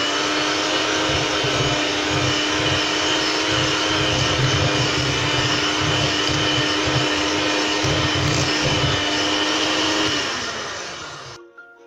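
An electric hand mixer whirs steadily and loudly as it creams butter and sugar for spiced sesame shortbread, a continuous motor drone with a rhythmic beater pulse, cutting off near the end.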